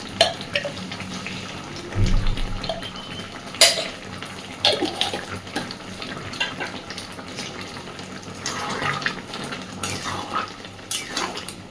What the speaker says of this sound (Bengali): নেড়ে চেড়ে ভালোভাবে মিশিয়ে দেব।